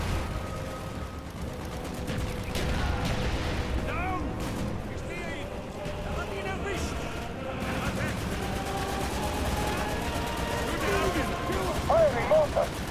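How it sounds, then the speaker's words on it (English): Mortar fire in the Call of Duty Black Ops video game, with a dense run of booming blasts and gunfire rumbling through a battle scene, mixed with shouted game voices. "Firing mortar!"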